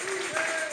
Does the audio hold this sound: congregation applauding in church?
yes